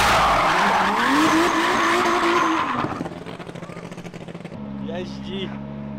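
A Subaru drift car slides with loud tire squeal and screeching skids over a roaring engine, then the squeal cuts off and the engine drones on with faint voices nearby.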